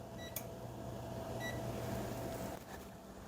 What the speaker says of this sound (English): I'm going to set the timer to 1 hour.